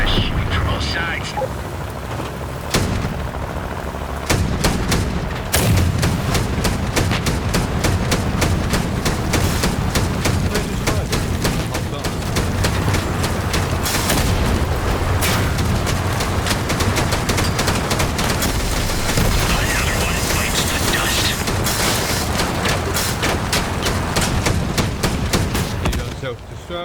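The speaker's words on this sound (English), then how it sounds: "They're shooting from all sides." Dense, continuous gunfire from every direction in a free-to-play survival shooter video game, with rapid cracking bursts and heavy blasts layered loudly throughout, while players talk over it.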